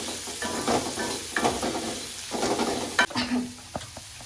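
Seasoning for churumuri being stirred and fried in a pan, a steady sizzle broken by scraping stirs and a few sharp clinks of the utensil against the pan, close up, with no talking.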